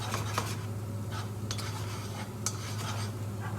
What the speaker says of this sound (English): Now, chopped garlic going in. Heat goes back up, medium high.